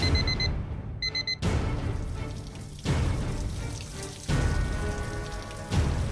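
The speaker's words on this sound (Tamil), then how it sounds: "இந்த நேரத்துக்கு அலாரம் அடிக்குது" A phone alarm beeps in short repeated tones at first, then continues ringing under loud splashing, running water.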